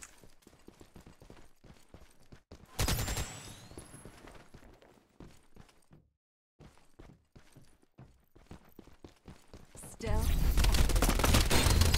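M4 rifle fire in the video game Farlight 84 comes in dense rapid bursts, one short volley early and a heavier sustained stretch at the end, with speech and softer game noises in between.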